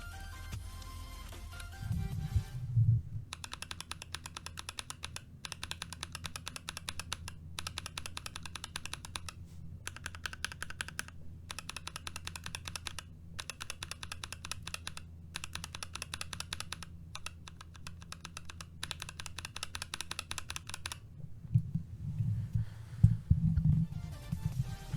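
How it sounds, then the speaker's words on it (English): Steady, continuous typing on a mechanical keyboard fitted with lubed and filmed Boba U4T tactile switches, close and fairly quiet, with brief pauses between bursts of keystrokes and no talking. "let's check out the lubed and filmed Boba U4T"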